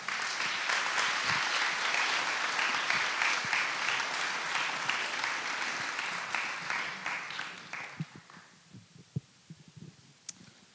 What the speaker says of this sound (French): Merci d'applaudir Baptiste et Niels.